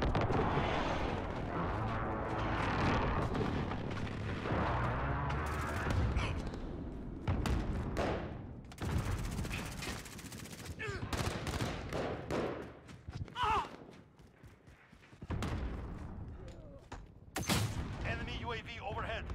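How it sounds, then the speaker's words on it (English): Precision airstrike explosions in Call of Duty: Modern Warfare boom in a rapid chain with gunfire, followed by scattered sharp blasts and bursts, loud with voices mixed in. "Allied precision airstrike incoming."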